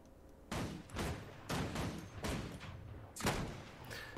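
Solar Flare rifle fired in Guild Wars 2, five or six evenly spaced heavy shots about half a second apart, each a broad booming blast with a short tail, fairly close and with no voices.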